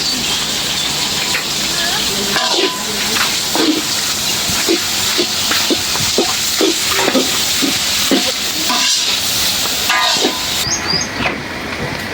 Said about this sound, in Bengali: পেঁয়াজ কাঁচামরিচটা ভাজা হয়ে গেছে